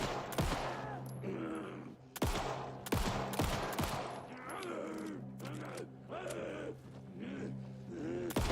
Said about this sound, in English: So that's like 5 bullets I shot into space.